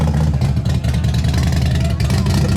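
A custom motorcycle with a remote-controlled adjustable exhaust revs loud and close, a deep throbbing engine rumble with a steady pulsing beat that barely dips for the whole stretch.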